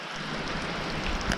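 Steady rain falls across a farm by the barn and a pond, a dense, even hiss of drops that is close and continuous with no voices.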